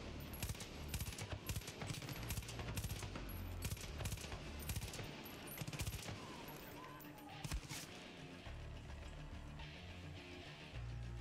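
Rapid bursts of gunfire in Far Cry 5 on Dutch Island, dense repeated shots with mechanical clatter, loud and continuous over a low rumble.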